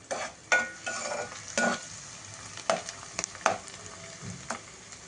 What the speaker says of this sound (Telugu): నేను కొద్దిగా పుదీనా ముందుగానే నూనెలో ఫ్రై చేస్తున్నాను